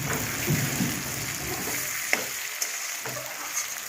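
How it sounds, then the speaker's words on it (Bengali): Onion and potato frying in a pan with little oil for a chicken curry, a soft steady sizzle with a few light clinks and stirring scrapes, heard close up without talk. "পেঁয়াজটা ভাজা হয়ে এসছে"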